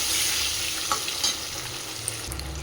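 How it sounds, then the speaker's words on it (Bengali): An egg fries in hot mustard oil seasoned with salt and turmeric, giving a steady, close sizzle with faint crackles and a few soft pops, no voices. "ভালো করে সরষের তেলটা গরম করে ডিমটা লবণ হলুদ দিয়ে আমি ভেজে নিচ্ছি"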